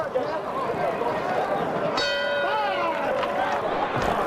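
A boxing ring bell rings out at the end of a round during a world light heavyweight championship bout in New Orleans, a sharp bright strike that rings on for a couple of seconds over a steady crowd murmur and commentary.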